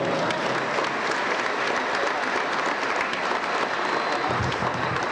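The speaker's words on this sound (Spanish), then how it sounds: "Recibámoslo pues con un fuerte aplauso." A school graduation ceremony crowd gives loud, sustained applause, a thick continuous roar of many hands clapping at once that holds steady for several seconds, with faint crowd murmur beneath.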